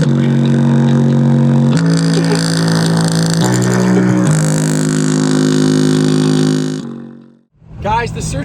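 A four-cylinder car engine with no turbo fitted and a bad boost leak revs hard and loud for several seconds, its pitch stepping up and down, then drops away briefly before a short final rev.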